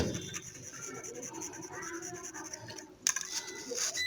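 Gold contacts of a faulty RAM module being rubbed with an eraser-like stroke, close and quiet, a continuous scratchy rasp with a short pause and a sharper scrape near the end.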